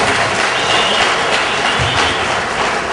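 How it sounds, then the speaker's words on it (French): A hall audience at a community reception for a guest of honour applauds loudly and steadily, a dense, even wash of clapping that carries on for the whole stretch. "appeler l'imam Konaté, qu'il faut applaudir très fort, s'il vous plaît."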